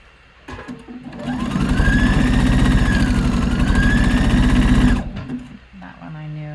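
A sewing machine runs loud and close in one sustained burst of about four seconds, back stitching a short seam on a Paddington top, with quieter handling before and after.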